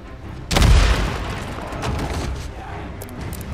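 A grenade blast in the Days Gone video game hits with a loud, close boom, then a long rumbling tail that slowly fades.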